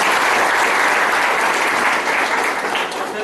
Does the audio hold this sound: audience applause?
yes